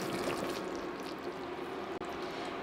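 Hot caramel pouring slowly over pecans, a soft steady hiss and trickle that runs continuously and close, with no talk.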